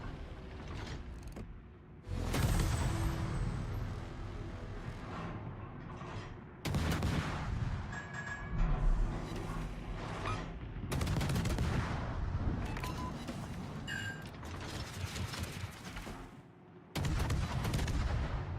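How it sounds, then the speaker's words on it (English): Fast-firing battleship guns in World of Warships thunder in repeated heavy salvos, each a loud booming blast followed by rumbling decay, spaced several seconds apart over a mechanical background. "Yeah, fast firing battleship."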